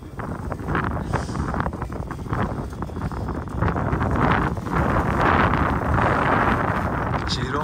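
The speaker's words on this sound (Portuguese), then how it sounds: "o vento tá muito forte" Strong gusts buffet the microphone outdoors on top of a tall São Paulo building during a giant kite flight, a loud continuous roar of wind that swells and grows heavier in the second half, with no clear talk.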